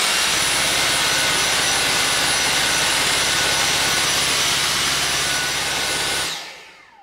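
A Dyson V6 Fluffy cordless vacuum cleaner runs with a loud, high-pitched whine and rushing airflow held steady for about six seconds before winding down as it is switched off, with no voices.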